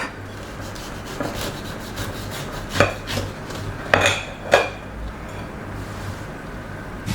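A knife saws through a pineapple, coconut and rum loaf cake, giving soft rasping strokes with a few sharper crunchy cuts near the middle, close up and with no speech.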